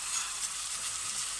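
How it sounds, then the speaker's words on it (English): Tamarind paste and nutmeg sizzle steadily in a hot pan for a Goan king prawn xacuti, a close, continuous hiss with fine crackle and no voices. "our tamarind paste, which is going to sizzle away and give that nice sourness"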